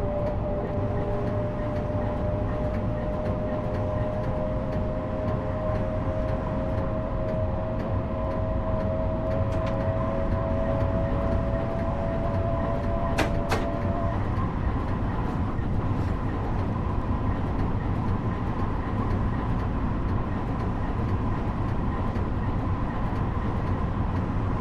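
Train Sim World express train on the Metro-North line running toward Grand Central, a steady low rumble and roll throughout, with a tonal whine that fades midway and a brief sharp clank near the middle.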